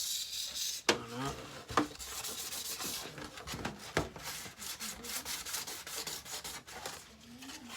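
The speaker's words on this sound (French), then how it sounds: "on ponce bien, on met l'ongle" Sandpaper rubs steadily across a Tamiya model car body in scratchy back-and-forth strokes, broken by a few louder scrapes and taps, close up with no talking.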